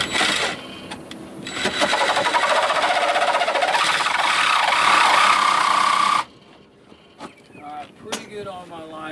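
A new saw blade cuts through boat transom wood with a loud, steady, buzzing grind for about six seconds, then stops abruptly. Someone speaks briefly afterward.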